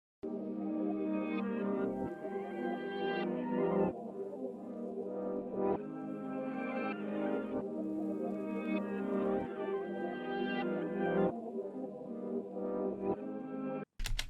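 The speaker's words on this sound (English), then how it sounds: "I took that sample, flipped it, and reversed it." Pitched-up, reversed music sample with dense layered tones swelling in repeating phrases, loud and continuous, cutting off abruptly near the end.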